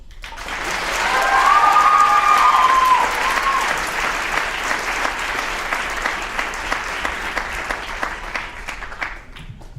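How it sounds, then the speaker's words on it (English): An audience at a writers' event applauds and cheers, loud sustained clapping with a shrill whoop near the start, gradually thinning into scattered claps. "let's give this courageous, funny, talented, creative group another round of applause"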